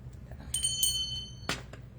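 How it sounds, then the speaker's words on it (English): A small brass bell topped by an abstract rooster rings in two quick bright dings, each with a short metallic shimmer, followed by a duller knock, close and fairly quiet. "the unusual little abstract rooster that tops this little brass bell"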